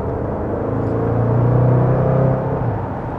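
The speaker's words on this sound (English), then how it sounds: "nothing quite gets me like the sound of that V8" A 2022 Jaguar F-Pace SVR's 550PS V8 in dynamic mode accelerates hard with a deep, swelling rumble heard from inside the SUV, rising in pitch and loudness before easing off.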